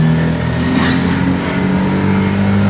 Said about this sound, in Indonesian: ini kita langsung jalan gigi 2, terus kita langsung injek gas